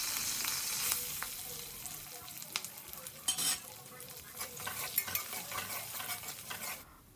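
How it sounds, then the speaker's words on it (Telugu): Cumin, green chillies, onions and curry leaves fry in oil for an okra curry, a close, crackling sizzle broken by scattered clinks and scrapes of a spoon stirring in the pan. "ఇప్పుడు ఒక స్పూన్ జీరా వేసుకొని అది వేగిన త వేగిన తర్వాత పచ్చిమిర్చి ఆనియన్స్ కరివేపాకును వేసుకొని వేయించుకోవాలి"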